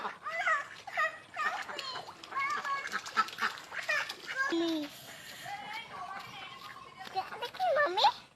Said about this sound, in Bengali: কি সুন্দর সাঁতার কাটছে দেখছো হাঁসগুলি